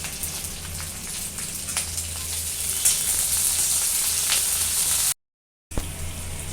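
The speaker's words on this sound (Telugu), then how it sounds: "పచ్చిమిరపకాయలు వేసేస్తున్నానండి, తర్వాత కరివేపాకు కూడా వేసేస్తున్నాను." Green chilies and curry leaves frying in hot oil in a pan, a constant crackling sizzle up close with scattered pops, cut by a brief gap of silence near the end.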